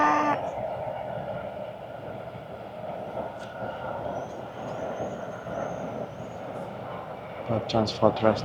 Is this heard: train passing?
yes